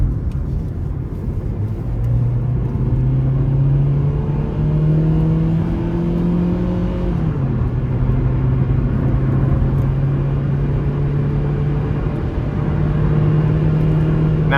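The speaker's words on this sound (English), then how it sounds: "It just tends to groan quite a bit because it's such a small engine" The small 1.8-liter engine of a 2009 Nissan Versa hatchback groans under acceleration from inside the cabin, its droning pitch climbing steadily, dropping at a gear change around midway, then rising again with constant road noise.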